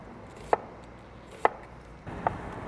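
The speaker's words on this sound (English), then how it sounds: "This recipe is gonna call for about a half cup of these thinly sliced onions." A knife cuts thinly sliced onions on a cutting board, giving three separate crisp chops about a second apart over a quiet, faintly noisy background.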